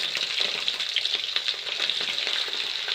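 Chicken pieces fry in hot oil with a dense, continuous crackling sizzle that stays loud and even throughout, close up and with no voices.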